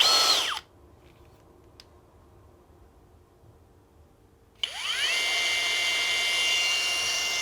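A cordless electric drill with a brushless motor and a soft-touch silicone body whines at high speed, stops for about four seconds of near silence, then spins up again and holds a steady, fairly loud hum.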